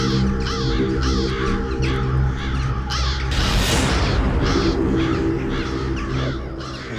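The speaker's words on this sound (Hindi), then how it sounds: "इतने सारे कौवे इस वक्त?" Many crows caw repeatedly and loudly over a steady low hum, their harsh calls overlapping, with a brief whooshing burst in the middle.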